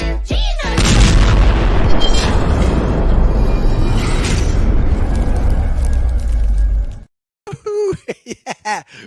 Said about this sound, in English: Yeah, we got some explosions back, baby.